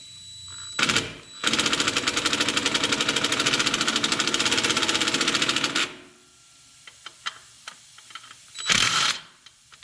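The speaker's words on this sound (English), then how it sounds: "I'm gonna hit that clamp with the impact one more time" An impact wrench tightening a clamp on turbo engine boost piping, with a short burst followed by a long, loud, steady rattling hammer that lasts about four seconds, then a few scattered clicks and a final brief burst.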